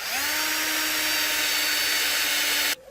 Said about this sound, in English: So I'll drill my pilot holes where those dimples are.